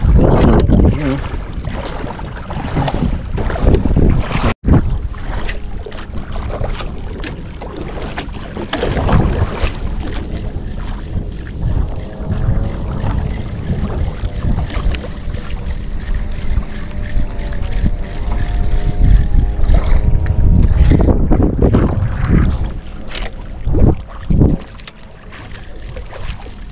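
A small boat grinds and knocks against a shallow bottom, with rough scraping, water sloshing and wind buffeting the microphone throughout.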